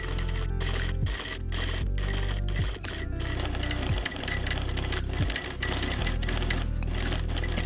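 Sewing machine top stitching a seam on a paneled bucket hat, catching ribbon on the back side; a steady, close, loud mechanical whir runs in bursts with brief pauses between stitching runs.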